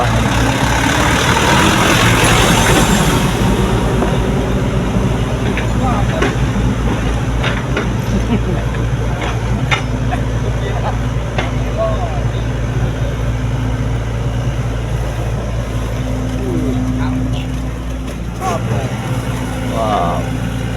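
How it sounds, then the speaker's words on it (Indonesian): A garbage truck engine runs at a steady idle beside a canal dump site slated for bridge demolition, a constant low rumble filling the scene while people talk nearby. "Ini mobil sampah ini."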